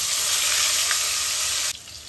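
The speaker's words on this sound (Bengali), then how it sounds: "এখন আমি এই পটলটিকে ভালো করে উল্টিয়ে পাল্টিয়ে একটু লালচে করে আমি ভেজে নেব" Pieces of pointed gourd (potol) fry in oil, giving a close, steady hiss of bubbling that softens slightly just before the end of the short stretch.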